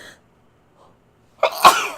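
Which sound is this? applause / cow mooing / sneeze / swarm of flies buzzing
sneeze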